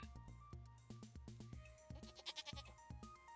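A goat bleats in the farming game Stardew Valley: a short, wavering, tremulous bleat rises over plinking game music and interface tones, close and clear, with no talking.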